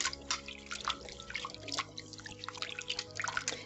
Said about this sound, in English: And I'm gonna add just a little salt to the water. And I'm gonna wash this in.